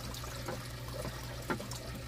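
Water drips and trickles off an aquarium pump being shaken during a water change, soft splashy bursts over a low steady hum, fairly quiet.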